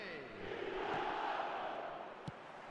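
A stadium crowd in an eFootball match between Vietnam and another side swells into a brief roar and then fades, fairly faint and distant.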